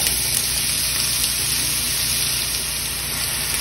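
Onion dropped into hot oil in a crockpot, sizzling in a steady, even hiss that stays loud and constant throughout, with no talk.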